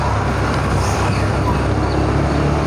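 Oncoming cars on a road in Koh Samui, heard as a loud, steady wash of traffic and engine rumble from inside a moving vehicle, with continuous road noise and passing motors close by.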